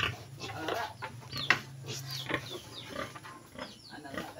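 Pig grunting on a farm with chickens clucking nearby, a busy mix of short snorts and bird calls at moderate level under a faint background hum, with occasional voices.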